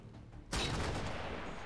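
A soldier's rifle fires in XCOM 2 with a sudden sharp blast after a quiet lead-in, trailing into a long rumbling decay; the separate second shot is not clearly distinct.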